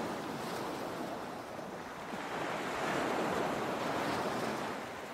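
Surf breaks steadily along the seashore while wind rushes across the microphone, a dense, continuous roar that swells slightly toward the middle and stays loud throughout.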